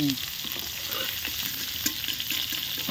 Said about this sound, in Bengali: এটাকে একটু ভেজে নেওয়া হবে লাল লাল করে